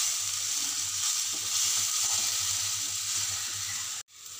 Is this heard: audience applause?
no